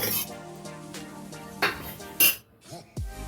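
Chopped fried eggplant lifted out of a pan with a metal utensil gives close clinks and scrapes against the pan, several sharp knocks and a brief quiet gap, no talking.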